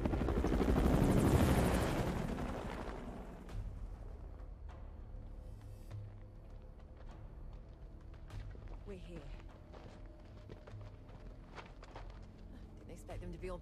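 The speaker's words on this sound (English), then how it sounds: "My helicopter, though." Helicopter flying in the video game Saints Row IV, a loud rotor roar in the opening seconds that fades to a steady background drone under game dialogue and effects.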